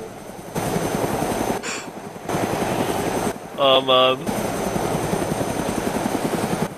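A helicopter in the video game DayZ drones steadily and loudly throughout with a fast rotor chop, while people talk over it and a brief tonal game sound cuts in near the middle.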